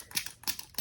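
Three quick, airy hisses from a hand spray bottle misting Brusho watercolor pigment on paper, close by and spaced evenly, each a short spritz with brief quiet between.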